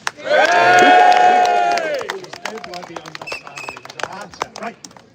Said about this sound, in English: just cheer and clap your hands